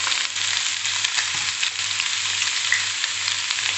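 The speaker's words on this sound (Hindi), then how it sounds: "जो प्याज हमने 3 ठो लिया था उसको मैंने चॉप करके रखा है, वो सारा मैं इसमें डाल दूँगी।" Chopped onions sizzle in hot oil with a steady, bright hiss, and a low pulsing hum runs underneath with a faint clink partway through.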